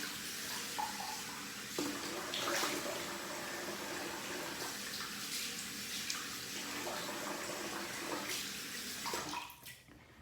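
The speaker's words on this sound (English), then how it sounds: "So I'm gonna throw some cold water on my face." Cold water running into a bathroom sink with splashing as it is thrown onto a face, close and fairly quiet, with a few sharper splashes before the flow cuts off near the end.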